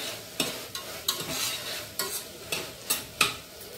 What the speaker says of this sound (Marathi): थोडंसं कांदा हलवून घेऊया आपण